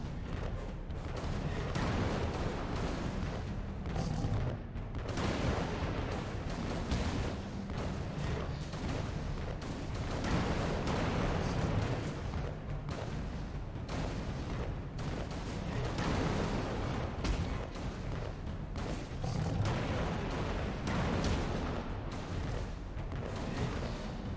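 Explosions and artillery fire rumble almost without pause in the video game Alice: Madness Returns. The dense, dull booms blend into one faint, continuous barrage with no talking over it.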